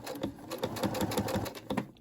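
A Brother SE600 sewing machine backstitches through fabric, a rapid, close mechanical chatter of needle strokes with brief pauses, heard alone.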